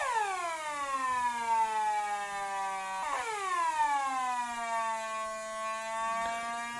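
A vacuum tube Atari Punk Console synthesizer emits a buzzy, harmonic-rich tone that sweeps downward in pitch, resets and sweeps down again, loud and close with no voices.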